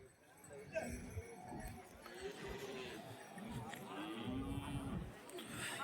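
Native cattle lowing at a weekly cow market, long drawn-out moos rising above a busy outdoor hubbub, with people talking nearby throughout.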